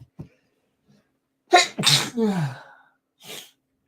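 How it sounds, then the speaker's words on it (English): A single loud sneeze bursts out after a couple of sharp sniffs and breaths, followed by a short trailing exhale. "Oh god, I need to sneeze."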